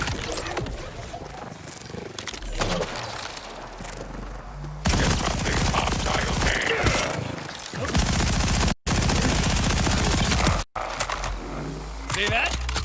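Rapid automatic gunfire in the video game Borderlands 4, dense bursts with a few brief pauses, loud and layered over game sounds and effects, with someone talking over it.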